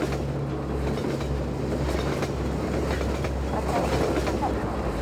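A train rumbles steadily through a sewer level in Half-Life 2, a continuous low roll with faint clatter, close and unbroken, with no talking over it.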